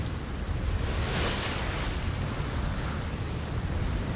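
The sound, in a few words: massive ocean waves in video game Atlas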